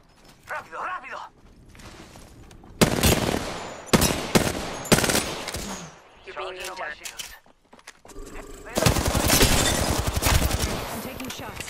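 Bursts of rapid machine gun fire in a video game come in several loud, dense volleys separated by short pauses, with voices talking in between.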